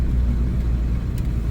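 A van rolls along a road with a steady, close low engine and road rumble throughout, no talking over it.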